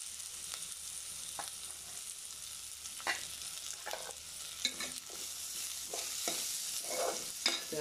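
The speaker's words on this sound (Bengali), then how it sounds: "পেঁয়াজটা দিয়ে একটু ভালো করে কষে নেব।" Onions frying in hot oil for a Bengali small-fish curry, a steady close sizzle with intermittent scraping stir strokes from a spoon, and no one speaking.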